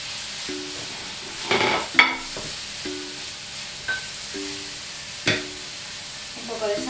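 Bell pepper sautéing in a pan for vegan seafood-style spaghetti, a soft steady sizzle broken by a few sharp utensil clinks and stirring scrapes.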